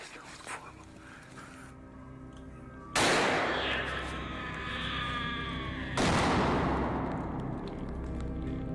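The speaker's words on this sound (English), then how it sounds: "A gunshot startles a hog" Two sharp, loud gunshots about three seconds apart during a wild boar hunt, each ringing out and echoing over an outdoor background hum.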